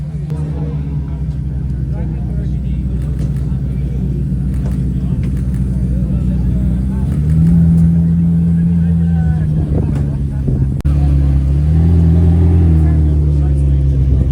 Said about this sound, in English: Mr. Schmee driving the Carrera GT, and we have the Elva and the Valor behind that